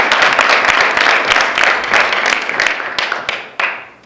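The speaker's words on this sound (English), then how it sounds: "I want you guys to give him a big round of applause." A crowd at a 5K meeting claps warmly for Peter Kosgei, a thick, steady wash of applause with a few sharper individual claps, gradually thinning toward the end.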